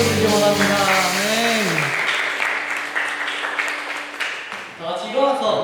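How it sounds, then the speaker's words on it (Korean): A congregation at a Sunday church service claps after a speaking voice, with broad, steady applause that swells up and then fades. Speech returns near the end. "하나님께 영광의 박수를 드리기 원합니다"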